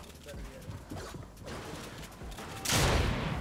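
Gunfire in the battle royale game Fortnite, a 1v1 build fight, with sharp shots scattered through busy game noise, one loud burst near the end, while players talk excitedly over it.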